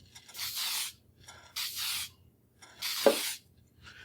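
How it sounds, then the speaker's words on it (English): An aerosol spray can fires onto a panel in three distinct hissing bursts of roughly half a second each, separated by short silences, with a faint fourth burst starting at the end; close and clear, no voices. "start spraying when you're off the panel, go ahead and spray"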